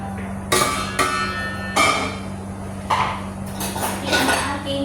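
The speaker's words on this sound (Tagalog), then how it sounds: "So, ngayon ilagay natin ang ating patatas." Potatoes going into a metal cooking pot in a home kitchen, making several sharp clattering knocks at uneven intervals over a steady low hum.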